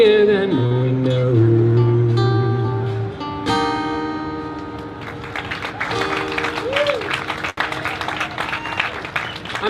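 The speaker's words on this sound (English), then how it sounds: "I'm so glad you guys are clapping right now." An audience applauds Broadway buskers Ethan Slater and Dru Serkes. A steady wash of clapping builds beneath sustained sung and instrumental tones and carries on to the end.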